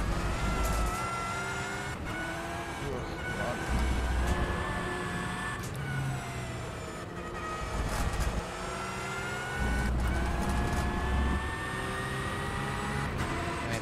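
A Porsche Supercup race car laps the Hungary circuit in the rFactor 2 sim, its engine howling steadily with repeated rises and drops through gear changes and braking, loud and close, with no talk.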